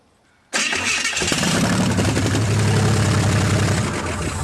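After a brief quiet moment, a carbureted engine cranks and catches, then settles into a steady, loud idle close by.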